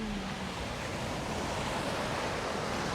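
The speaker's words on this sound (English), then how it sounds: "I'm sure you can hear some of the waves through the microphone today" Ocean waves wash in a steady, dense roar that reaches the microphone outdoors, mixed with wind buffeting, continuous and fairly loud with no breaks.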